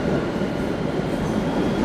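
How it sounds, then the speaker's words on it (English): An MBTA Blue Line subway train at Revere Beach, Massachusetts, on a combined overhead-wire and third-rail line, gives a steady, loud rumble of rolling rail noise that fills the whole stretch, with no voices. "I just got off the Blue Line T train in Revere Beach,"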